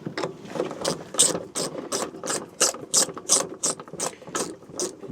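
A ratchet fitted with a 9/16 deep socket snugging bolts on a fly rod locker, rapid repeated clicking strokes in an uneven back-and-forth rhythm, close and clear with no talking.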